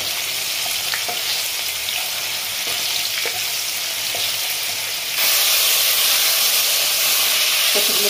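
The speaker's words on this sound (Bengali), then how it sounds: "ফোড়ন দিলাম, ভাজবো" Bay leaf, chopped dried red chili and five-spice tempering sizzle steadily in hot oil, a continuous bright hiss that grows louder partway through, with faint clicks of stirring and no voices.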